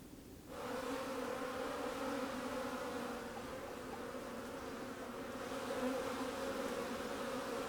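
Honeybees buzz steadily around an opened beehive, with a dense, continuous hum from many insects close by that holds at an even level throughout.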